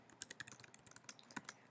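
Quick, light keystrokes on a computer keyboard patter in an irregular burst, close and fairly soft, with no voices.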